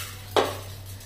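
Dal and rice tipped into a pressure cooker make a single short rattling clatter against the metal, close and fairly loud, fading quickly over a steady low hum.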